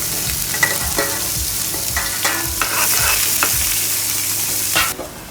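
Onions sizzle in hot oil with asafoetida and leaves in a pan, a loud continuous frying hiss broken by regular spoon scrapes and stirring knocks, with the sizzle swelling briefly before dropping off at the end.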